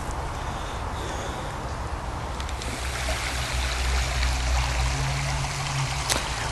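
River water rushes steadily where two rivers meet, a continuous close wash of flow with no talk.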